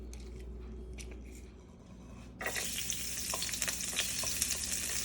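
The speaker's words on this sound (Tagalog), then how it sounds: "Ayun sa sisig, ginigisa ko yun." Sisig of pork belly and pig ears is sautéed in hot oil in a pan; quiet kitchen noise gives way to a sudden loud, crackling sizzle that stays steady with small pops.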